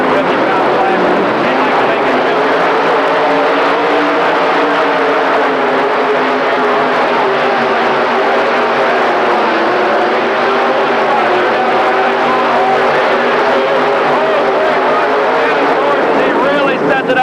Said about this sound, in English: Dennis Horst, Dwayne Huffman, the only 2 guys going up against the 2 Mello tractors here in the pull-off